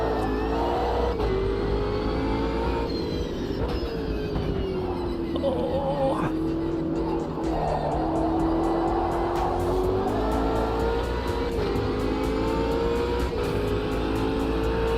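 Race car engines in a racing video game drone and rev steadily, one highly modified Ginetta among them, with pitch swells through corners and faint tire squeals, and a voice talks in the background now and then.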